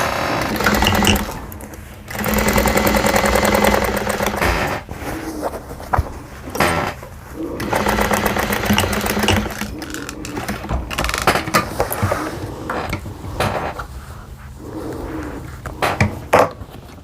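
A sewing machine stitches along pinned, lined-up quilt seams in repeated bursts of rapid mechanical whirring, with short stops between runs and faint handling clicks in the gaps.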